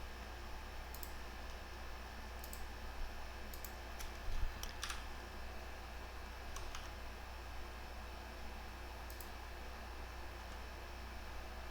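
Computer keyboard keys tapped in a few sparse, quiet clicks over a steady fan-like hum, with no talking.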